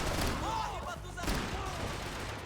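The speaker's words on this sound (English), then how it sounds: "we're getting shot from the top" Gunfire rains down from above in Max Payne 3, a dense run of rapid shots and booms in a favela firefight, with a voice talking over the shooting.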